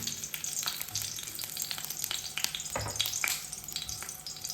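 Garlic fries in hot oil while a spoon stirs it, giving a continuous near sizzle broken by scraping stirs and small clinks, no talking.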